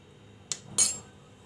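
A spoon stirs milk powder, desiccated coconut and condensed milk together in a bowl for orange modak dough, with two quick scraping clinks close by in a brief, quiet moment.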